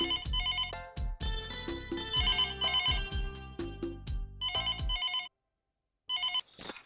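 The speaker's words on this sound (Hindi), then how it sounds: "घर आई नहीं कि फोन आने शुरू हो गए" A telephone at home rings in a quick, bright electronic pattern of repeated trilling bursts, loud and close, stopping briefly before another burst begins.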